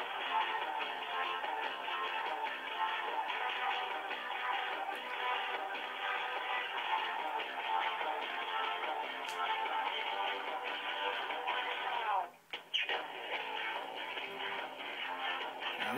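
Telephone hold music plays steadily and somewhat thin, like it is coming through a phone line, with a short dropout near the end before it resumes.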